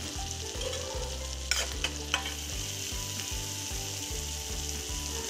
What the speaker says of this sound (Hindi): बटर डालेंगे और यहाँ पर एक चम्मच तिल डाल देंगे